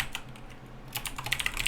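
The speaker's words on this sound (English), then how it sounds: "I do like typing it all out" Typing on a computer keyboard: a steady patter of close key clicks that grows busier and louder toward the end, with no talking.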